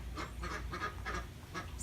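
Pet ducks on a homestead quacking in a quick series of nasal calls, moderately close, over steady outdoor background noise.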